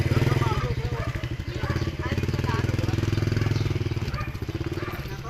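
A motorcycle engine labours up a steep road, its pulsing mid-pitched drone steady and fairly close, rising and easing slightly as it climbs, with voices talking over it.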